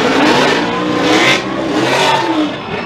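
Formula Drift cars, a Ford against a Chevrolet, drifting at Palm Beach: loud sustained engine roar with revving and tyre noise, close and continuous, no talk.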